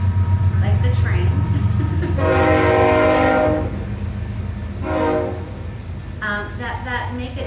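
A passing train sounds its horn in two long, loud sustained blasts over a constant low rumble, then a shorter blast near the end, with people talking underneath.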